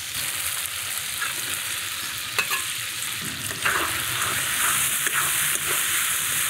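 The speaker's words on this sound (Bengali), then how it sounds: "মশলা, আলু, মাছে সব কিছুতে ভালোভাবে কষিয়ে নিলাম।" River baim fish and fried potatoes cooked down in oily masala, a steady close sizzle broken by intermittent scraping and clinking strokes as the mixture is stirred in the pan, with no talking.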